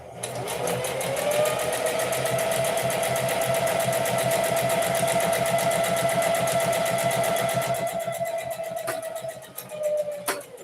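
Sewing machine stitching a collar, a loud, steady, close motor whir with rapid needle chatter running continuously, then slowing and stopping near the end with a couple of clunks.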